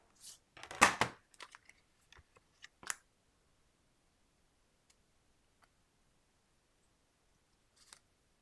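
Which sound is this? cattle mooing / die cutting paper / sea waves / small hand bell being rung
die cutting paper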